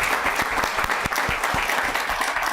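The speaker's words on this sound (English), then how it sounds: "Please join me in applauding this year's nominees for the business category." Steady applause from an audience at a town council meeting honoring award nominees, dense clapping that continues without pause at a moderate level.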